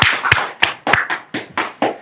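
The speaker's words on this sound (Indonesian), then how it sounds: "Ini berikan aplaus dulu nih" Applause for a guest at an Indonesian podcast talk session, a short burst of brisk, fairly close hand claps with an uneven rhythm, heard alone without talk.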